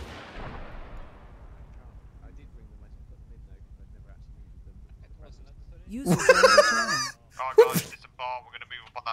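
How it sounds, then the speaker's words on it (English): A single deep artillery boom from Arma 3 opens the sequence and rolls away in a long fading rumble, followed by a low steady hum, then a few seconds of people talking over radio. "Firing one more for effect."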